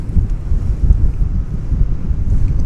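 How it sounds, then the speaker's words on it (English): A strong southerly wind at Dallas Fort Worth airport, about 22 mph, buffets the microphone with a loud, continuous low rumble and no break. "the airport's saying the wind's coming in at 22 miles an hour out of the south"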